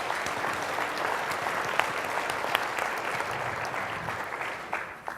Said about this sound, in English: you guys need to give a round of applause to the conference organizers here